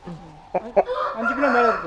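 A rooster weighing over five kilograms crows close by in a short, loud burst, after a few low clucks.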